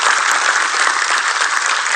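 An audience at a guru's spiritual discourse bursts into loud, sustained applause, a dense, even wash of clapping from many hands that holds steady throughout.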